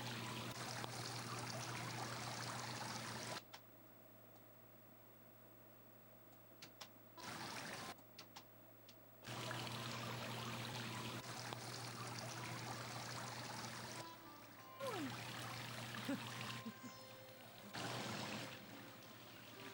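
A loud, steady rush of flowing stream water, cut off abruptly several times by near-silent gaps before returning at full strength.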